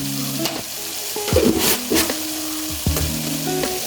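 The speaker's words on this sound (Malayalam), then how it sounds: "ഉപ്പ് ചേർത്ത് ഞാനത് വഴറ്റി" Salted ginger curry sautés in a pan with short bursts of sizzling and scraping stirs over a low steady frying hiss, close and fairly loud, with no talk.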